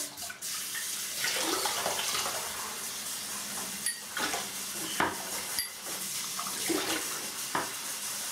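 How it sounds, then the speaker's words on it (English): Water runs steadily from a tap into a sink, with occasional clinks and knocks of dishes or utensils close by. "let me just get some fresh water here."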